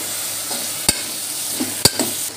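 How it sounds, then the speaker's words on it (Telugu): Cut eggplant pieces fry in a hot pan, a continuous close sizzle broken by two sharp clacks of a spatula stirring and a few softer scrapes, with no talking. "మనం కట్ చేసుకున్న వంకాయ ముక్కలు అయితే వేసేసుకోవాలి ఫ్రెండ్స్."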